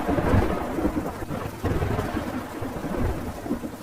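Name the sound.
heavy rain with thunder and strong wind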